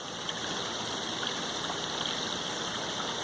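A small backyard waterfall pours over a weir rock into a pool, making a steady, close, fairly loud rushing splash that runs unbroken throughout with no voices.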